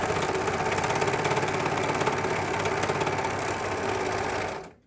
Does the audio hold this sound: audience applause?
no